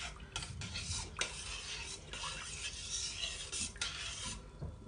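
A spoon stirs yeast into warm water in a bowl, producing quick, close scraping and swishing strokes in irregular bursts, quiet overall with no talking.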